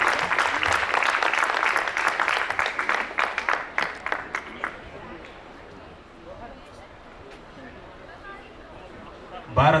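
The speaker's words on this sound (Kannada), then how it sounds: "ಕಲಾವಿದರಿಗೆ ಜೋರಾದ ಚಪ್ಪಾಳೆ." An audience applauds performers at a student music jam in Mangaluru, a dense burst of clapping that thins into scattered claps and fades to quiet room murmur, with a brief thump at the very end.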